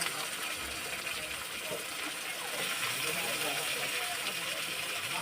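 Diced potatoes go into a hot pan with chopped tomato, setting off a steady, fairly quiet sizzling hiss that holds evenly throughout, with faint clicks of the food shifting.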